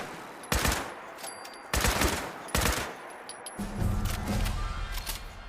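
Small tanks in a wasteland exploration game fire lasers at the player, giving three sharp, loud blasts roughly a second apart, followed by a rumbling low hum and buzzing.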